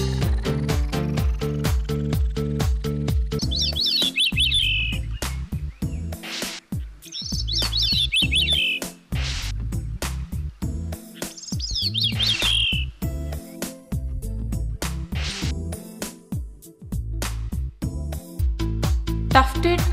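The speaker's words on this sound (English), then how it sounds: "thrushes." Thrush song with bright, trilling phrases repeated three times over steady background music, each burst clear and fairly close.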